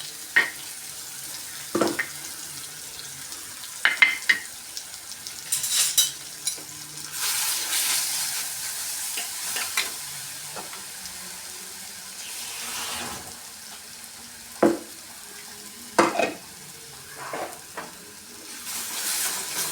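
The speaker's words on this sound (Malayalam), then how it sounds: "ഇഞ്ചിയും ചുവന്നുള്ളിയും പച്ചമുളകും ചതച്ചത് ഇതിലിട്ട് ഒന്ന് കുറച്ച് നേരം മൂപ്പിച്ചെടുക്കാം" Crushed ginger, shallots and green chillies frying in a pan for a Kochi-style mackerel curry with coconut, giving soft intermittent sizzles, stirring scrapes and a few louder bursts, close by and with no talk.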